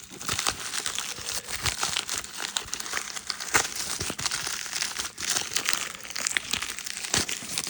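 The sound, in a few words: cutting open trading card pack wrappers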